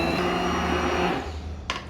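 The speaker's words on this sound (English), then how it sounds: "Now that won't have an issue blending when I put the bar mix through them." Stick blender whirring through cooked potatoes for tomato soup, a loud steady motor whine that drops off after about a second, followed by a brief clatter.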